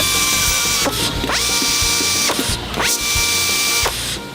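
Power tools torquing main bolts on an LS engine block assembly line: repeated whirring runs that rise and fall, with ratcheting mechanical clatter over steady loud factory noise.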